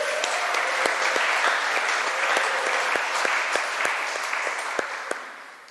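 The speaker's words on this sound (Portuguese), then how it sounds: "Vocês podem dar uma salva de palmas para nosso Senhor Jesus Cristo?" A church congregation applauds for Jesus Christ with a steady, dense wash of clapping. Some loud single claps sit close by, and the sound slowly fades toward the end.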